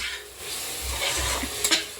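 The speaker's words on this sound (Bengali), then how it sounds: "মাত্র শুরু করলো পেঁয়াজ লঙ্কা ভাজা" Onions and chillies frying in a pan as a couple cooks dinner at home, a soft continuous sizzle with stirring and scraping rubs, a brief clink of a utensil near the end.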